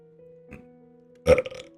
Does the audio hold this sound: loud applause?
no